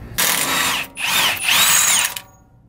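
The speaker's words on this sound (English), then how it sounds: "Next tool up is going to be a 36 millimeter impact." A 36 mm impact wrench with a socket loosening a 12-point brake cap on a Nissan 240SX during a 300ZX brake conversion, giving two loud, close whirring bursts with a short gap between them and no talking.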